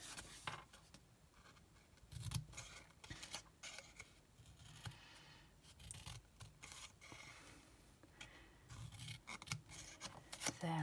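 Scissors snip through card stock while a paper candle box is cut out and tabbed, a run of crisp rasping cuts close to the microphone in irregular bursts, with no talking.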